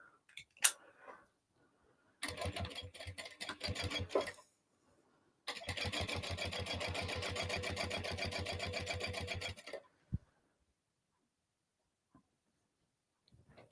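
A sewing machine topstitches a crossbody bag in two runs of fast, steady mechanical chatter, a short run and then a longer one, with quiet gaps and a few small clicks around them.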